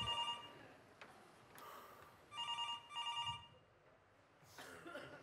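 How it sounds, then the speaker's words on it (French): An old-style telephone bell rings in short bursts, two rings close together then another, fairly faint against quiet background with soft incidental noises. "Téléphone."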